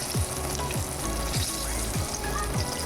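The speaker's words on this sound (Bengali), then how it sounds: "এগুলো কিন্তু আমার মোটামুটি লাল লাল করে ভাজা হয়ে গেছে" Chicken popcorn deep frying in hot oil, a steady close sizzle with a repeating low bubbling pulse roughly every half second, no voices.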